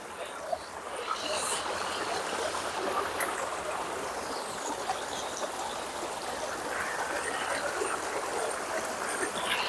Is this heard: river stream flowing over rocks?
yes